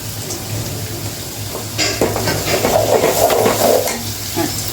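Ground spices with chilli powder and salt cook down in a pan with a splash of water, a low bubbling sizzle rising midway with clinks and scrapes of the pan over a steady background hum.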